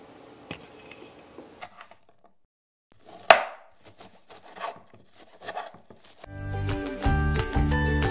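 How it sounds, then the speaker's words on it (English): A knife slices sweet potatoes into half-inch rounds on a board, with one sharp chop and then a run of lighter, irregular cuts close by. Music comes in near the end. "now I'm going to cut them into 1/2-inch rounds"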